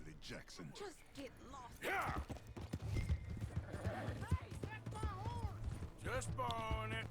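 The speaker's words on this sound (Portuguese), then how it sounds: "Agora aí andando a cavalo." Hooves clip-clop steadily from a galloping horse in Red Dead Redemption 2, with a horse whinnying near the end, running under someone talking in Portuguese throughout.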